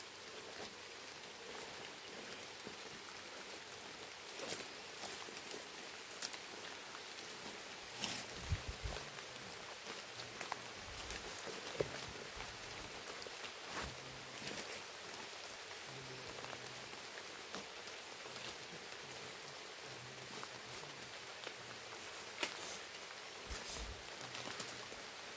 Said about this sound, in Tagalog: Lakas yung ulan mga idol